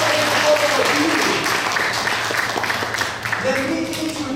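Audience at a political fundraising event applauding, a dense round of clapping that thins slightly toward the end while a voice speaks over it.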